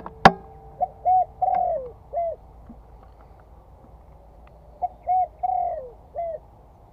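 Spotted dove (tekukur) calls played through a hunting sound unit: two phrases of clear repeated cooing notes separated by a short pause, after a sharp click at the start, over a quiet low background.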